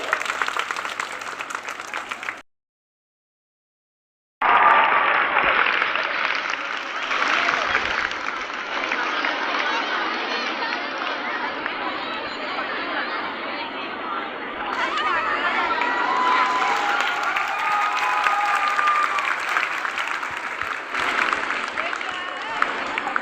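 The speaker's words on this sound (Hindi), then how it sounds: "और एक बार जोरदार तालियां मैम के लिए" A school sports ceremony crowd claps for a teacher, a long dense stretch of applause with children's chatter and cheering mixed in, broken by a brief silent gap near the start.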